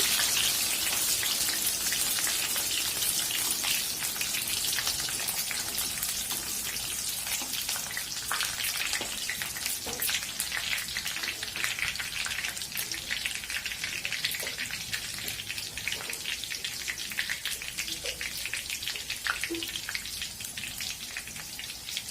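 Panch phoron spices and two bay leaves sizzle in hot oil for aloo dum, a steady dense crackle and hiss with scattered sharp pops, close and even throughout, no talking.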